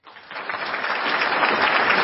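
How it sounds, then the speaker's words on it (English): A room of colleagues at a realtors' association meeting gives a round of applause welcoming a new member, the clapping swelling quickly and holding steady and moderately loud. "I will leave your colleagues in a round of applause welcoming you to membership"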